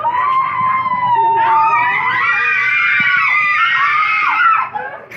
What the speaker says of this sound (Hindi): चीखे ना मारो।